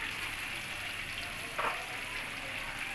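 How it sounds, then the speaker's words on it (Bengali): Chopped onion frying in the leftover oil from frying prawns for a prawn malai curry, giving a steady, moderate sizzle throughout with a brief stirring scrape midway; no voices. "পেঁয়াজটাকে আমি নেড়ে চেড়ে সফট করে ভেজে নিব কিছুক্ষণ"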